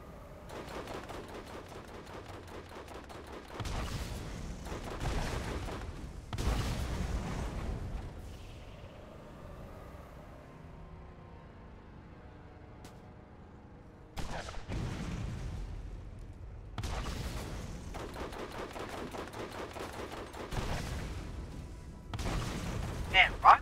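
Rocket launcher blasts in the Borderlands video game, loud explosion bursts grouped in two clusters, separated by a quieter stretch.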